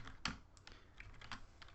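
Clicky keystrokes on a computer keyboard while entering a physics raycast in Unity3D, a quick run of close, distinct taps at an uneven pace with no talking.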